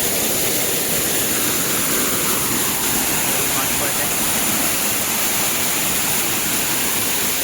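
Small waterfalls at Machi pour down in a steady, loud, unbroken rush of broadband water noise lasting throughout.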